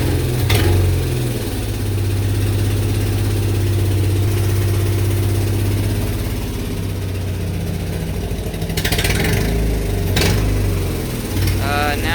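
A Mazda project car's engine runs steadily just after its first start, with a low, even idle hum throughout and brief sharper bursts near the end.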